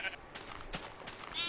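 Sheep in the Minecraft video game bleat in a couple of short, nasal bursts over a steady bed of game sound, at moderate level, with a voice talking faintly alongside.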